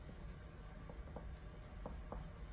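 Pen or marker writing a name on a sketchbook cover, faint close scratchy strokes with a few brief taps, quiet and without talk.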